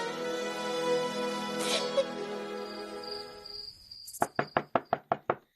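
Seven sharp knocks rap on a wooden door in a quick, even sequence, loud and close, following a stretch of dramatic music in a Hindi historical drama.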